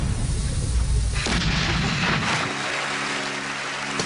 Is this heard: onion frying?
no